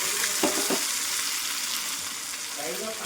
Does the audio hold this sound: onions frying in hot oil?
yes